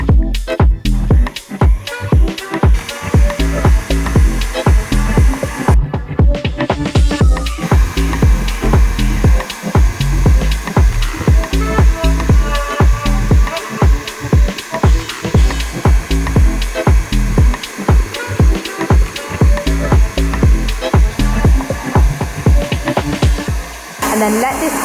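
An electric mixer whisks Italian meringue for lemon meringue cheesecake frosting, giving a loud, continuous motor whir with rhythmic beating pulses that holds steady throughout.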